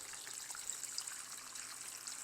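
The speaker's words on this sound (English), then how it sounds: "So let's fill this with water. Okay, and then I'm just taking regular tap water. And I'm going to fill my tray about halfway up." Regular tap water pours into a seed tray for dahlia seeds, a soft steady trickling splash, faint and continuous with no talk.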